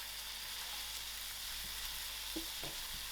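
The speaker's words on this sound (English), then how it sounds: "To my onions, I'm going to add in my ginger garlic and my curry leaf. I will give this a few seconds to fry out." Onions with ginger garlic and curry leaves frying in oil, a constant soft hiss of sizzling with a couple of faint stirring taps, quiet and without talk.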